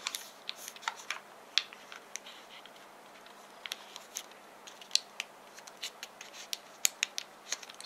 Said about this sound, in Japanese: ではまた同じようにここの角がここの角に来るように折り紙を折りたたんでいきます。